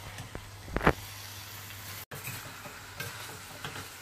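Stirring pav bhaji curry with spices in a pan: a few brief scraping stirs and a sizzle burst near the start, then a low steady frying hiss, alone and fairly quiet.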